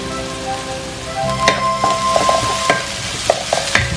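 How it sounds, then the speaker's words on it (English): Chopped curry leaves hit a hot pan with onions and sizzle loudly, a steady frying hiss broken by several crackles and stirring knocks, close up with no speech. "And add in the curry leaves which I have already chopped."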